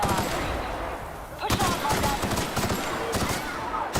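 Automatic rifle fire in bursts from the game The Outer Worlds, dense rattling volleys that are loud and close, with an occasional voice under the shooting.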